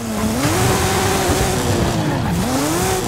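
A Porsche 911 Sport Classic launches hard from a standstill, its engine note sweeping up and dipping between gears over loud tire noise. The car is close and loud, with no talk over it.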